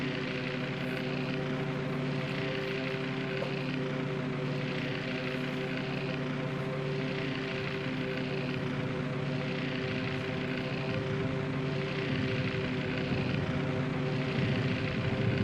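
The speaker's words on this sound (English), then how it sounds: "Svetlana is about to get taken out by rocket planes." Rocket-armed planes launched from a German aircraft carrier in the naval game World of Warships drone steadily and loudly throughout, a continuous layered engine hum with no talking.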